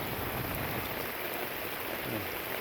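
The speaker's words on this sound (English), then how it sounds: "these heavy storms that kind of come on out of nowhere and throw a lot of rain" Heavy storm rain pours down in a steady, dense hiss, falling loud and continuous with no breaks and no voices.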